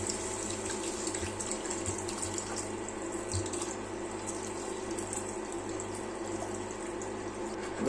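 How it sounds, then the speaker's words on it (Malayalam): Water runs steadily into a pan of Kerala-style mackerel curry with tamarind, a continuous close trickling stream that goes on without pause. "അതിനുശേഷം ആവശ്യത്തിന് വെള്ളം കൊണ്ട് ചേർത്ത് കൊടുക്കാം."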